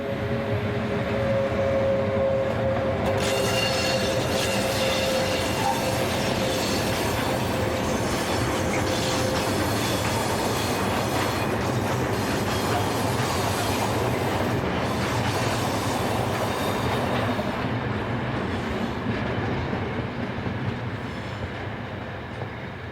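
A local freight train rolls past behind Austrian electric locomotive 1163009, a continuous loud rumble of wagons and wheels on rails that holds steady for the whole stretch, with faint squeals and no voices.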